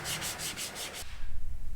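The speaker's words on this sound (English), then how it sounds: "So let's get back to sanding." Steady back-and-forth sanding of a metal gas tank, about five even rubbing strokes in quick rhythm, close by, then the scraping stops and a low rumble remains.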